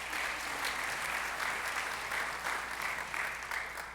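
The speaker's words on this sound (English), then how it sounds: "Let's also give them a big round of applause." Warm, sustained applause from a synagogue congregation thanking the catering staff during Yom Kippur services, an even wash of many hands, moderately distant and soft, fading slightly at the end.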